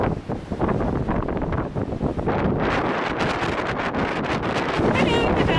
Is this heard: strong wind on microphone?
yes